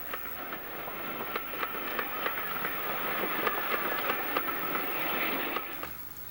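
Class 45 Peak diesel locomotive passing with a Bristol to Penzance train in 1985: a continuous loud rumbling roar with rhythmic clickety-clack of wheels over rail joints, fading at the end.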